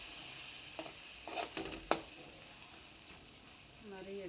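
Egg frying in a pan for a simple Indian home dish, a steady soft sizzle with a few scraping stirs and clinks close by, faint overall.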